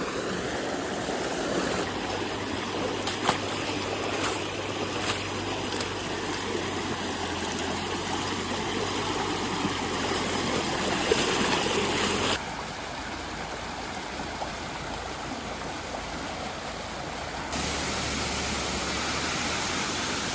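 Stream water runs along the trail at Bokadkada waterfall near Mumbai. It is a continuous close rushing and trickling that stays steady, dipping slightly in level partway through, with no voices.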